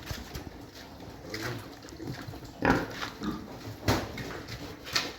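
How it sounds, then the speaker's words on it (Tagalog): Pigs grunt and squeal intermittently at close range during feeding, with piglets present and several louder snorts standing out over a continuous farmyard background. "Pakalaking baboy niyan guys."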